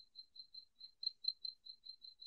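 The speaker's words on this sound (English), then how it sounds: "that's a cricket" An indoor cricket in a quiet studio chirps in a steady, evenly spaced train of short, high, thin pulses, faint but clear and alone.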